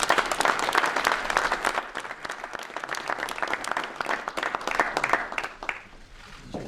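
Audience applause at a presidential remarks event, a loud crowd clapping vigorously and continuously for several seconds before tapering off slightly at the end.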